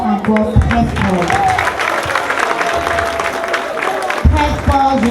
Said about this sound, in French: applaudissons encore très fort.